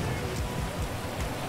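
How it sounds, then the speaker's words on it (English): Steady hiss of rain falling in GTA 5, a dense even wash of noise with faint patters, continuous throughout. "oh, it's raining"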